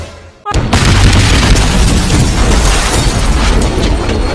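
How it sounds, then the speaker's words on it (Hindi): A bomb blast goes off on a train: after a short quiet moment comes a sudden loud boom, followed by a sustained, heavy roaring rumble that fills the rest of the clip. No voices are heard. "और ट्रेन में बम ब्लास्ट कौन किया?"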